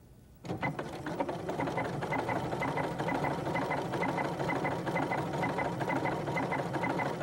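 An embroidery sewing machine stitches a feather stitch design. After a short quiet start it runs into a fast, steady mechanical rattle that keeps an even rhythm throughout.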